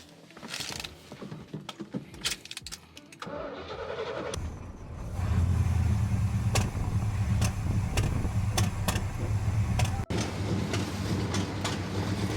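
An old abandoned junkyard muscle car engine turns over and catches, then settles into a loud, steady, rough low rumble that runs on, with rattling clicks and knocks over the top.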